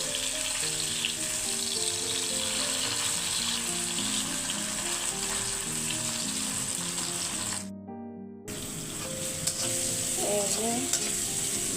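Parboiled fish pieces fry in a pan with a loud, continuous sizzle and scraping stirs, broken by a short silent gap and then resuming as before.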